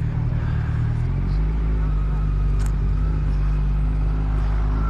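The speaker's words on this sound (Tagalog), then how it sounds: "Yun lang, traffic." Road traffic heard from a motorcycle rider's position, a steady low engine drone with a deeper rumble settling in after the first second, other vehicles passing and faint talk under the noise.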